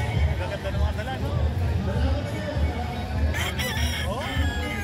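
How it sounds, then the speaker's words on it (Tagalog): Chickens and roosters at a breeders' gathering crow and cluck close by, with a rooster crow rising near the end over steady murmuring voices in the background. "Maganda yung mga manok."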